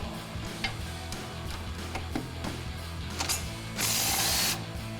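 Ratchet with an 18mm socket backing out strut mount bolts on a 2005-2014 Mustang during a coil-over install, giving steady close clicking, then a brief loud burst near the end.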